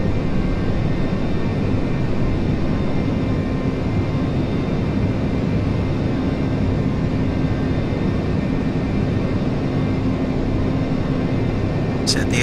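Airliner engines roar at full takeoff thrust in a flight simulator on a climb out of New Orleans, a steady loud broadband rumble held throughout, ending with a brief click.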